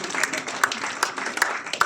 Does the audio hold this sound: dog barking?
no